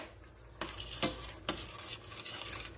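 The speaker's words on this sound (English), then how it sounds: "you're going to want to fry this meat" Ground beef for goulash fries in a pan, a steady hiss with a few scraping stirs and utensil knocks against the pan, close and fairly loud.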